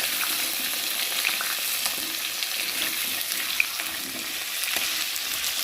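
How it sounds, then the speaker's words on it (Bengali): Potatoes fry in oil with cumin in a pan and are stirred now and then, making a constant close sizzle broken by faint scraping and clinks, with no voices. "ভালো করে নেড়ে দেবো।"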